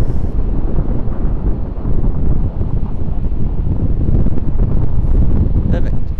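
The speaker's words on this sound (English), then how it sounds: "here comes the wind with it as well" Strong wind blows across the microphone at Sydney Airport, a loud, continuous low rumble with buffeting gusts throughout and faint distant sounds near the end.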